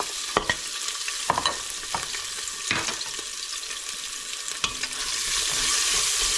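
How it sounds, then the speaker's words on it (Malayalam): Crushed ginger, garlic and green chilli sizzle in hot sunflower oil inside a pressure cooker, a steady frying hiss punctuated by occasional clinks and scrapes of stirring, rising slightly toward the end. "കുക്കർ എണ്ണ ചൂടായി വരുമ്പോഴേക്കും അതിലേക്ക് ഇഞ്ചി വെളുത്തുള്ളി ക്രഷ് ചെയ്ത് വെച്ചിരിക്കുന്നത് ഇടുക, പച്ചമുളകും അതിലേക്ക് ഇടുക"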